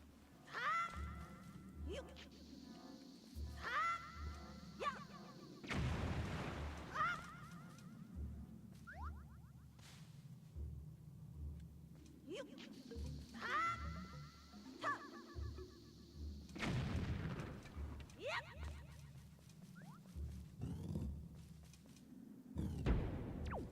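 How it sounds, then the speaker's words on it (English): Bombs explode in The Legend of Zelda: The Wind Waker HD as a few sharp, booming bursts spaced apart, heard among creature cries and other game sound effects. "we need to just throw the bomb"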